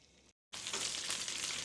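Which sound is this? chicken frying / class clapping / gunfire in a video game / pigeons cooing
chicken frying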